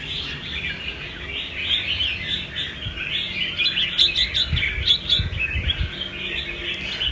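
Captive Mộc magpie robins call while fighting, with rapid, shrill chirps and tweets overlapping in a busy stream alongside light fluttering and rustling close by.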